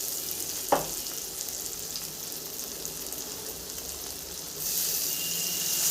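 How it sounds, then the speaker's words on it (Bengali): Spices with mustard paste and turmeric fry in a pan, a soft steady sizzle with one sharp clink early and a louder burst of hissing near the end. "দেখুন 2 সেকেন্ড কষিয়ে নিয়েছি"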